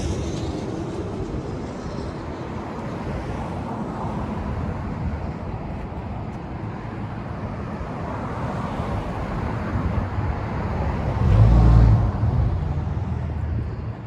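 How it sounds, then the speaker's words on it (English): Steady traffic roar from passing vehicles on US Highway 95 in the Nevada desert between Reno and Las Vegas, continuous and broadband, with one vehicle swelling louder and closer near the end. "Sorry about the traffic noise. We're right on US 95"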